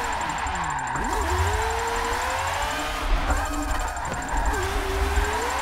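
A widebody MK5 drift car engine in a driving game drones and revs steadily, crackling, the pitch rising and falling through gear changes, loud and close throughout.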